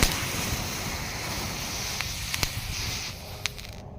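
A Thai dragon-egg firework and a spinning firecracker set inside a jar give off a constant rushing hiss, broken by a few sharp crackles and pops near the end.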